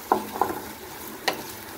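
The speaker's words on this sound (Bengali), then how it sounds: "মশলাটা একটু ভালোভাবে ভেজে নিব যাতে আদা রসুনের গন্ধটা না থাকে" Spice paste with ginger and garlic frying in a pan, a soft low sizzle punctuated by three sharp spatula scrapes and taps against the pan.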